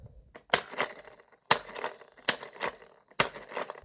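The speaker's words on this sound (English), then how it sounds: "the bell does cut off weirdly" A Thomas the Tank Engine toy bell rings four times at a steady pace, each strike bright and metallic and cut short abruptly rather than fading out, close and fairly clear.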